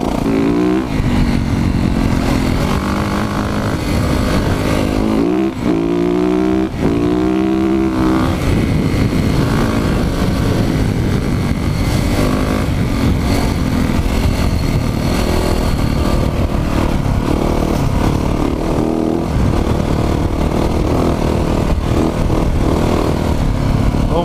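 A Yamaha YZ450F dirt bike rides off-road at Cinder Hills Off-Highway Vehicle Park in Flagstaff with its rear wheel spinning on loose ground. The loud, close engine roars throughout, with several sharp rising revs early on.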